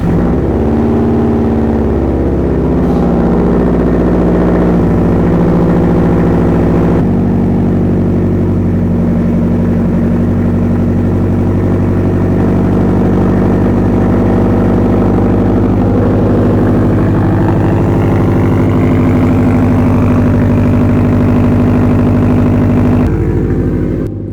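Straight-piped Subaru STI engine firing up from cold and settling into a loud, steady, rumbling idle with strong low harmonics, close by and with no talking.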